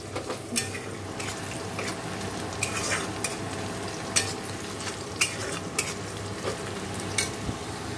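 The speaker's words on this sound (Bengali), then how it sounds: "এখানে দেখো পেঁয়াজ ভাজা হচ্ছে" Onions fry in oil with five-spice and dried chilli tempering, a steady close sizzle punctuated by sharp clinks and scrapes of a utensil against the pan, no talking.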